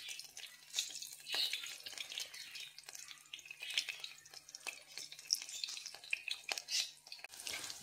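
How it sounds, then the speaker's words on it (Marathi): Onion sautéed in hot oil with cumin and garlic in a pot as tempering for fenugreek curry: a soft, continuous crackling sizzle with busy bursts and occasional stirring clatter, close and fairly quiet, with no talk. "आता छान कांदा असा परतून घ्यायचा"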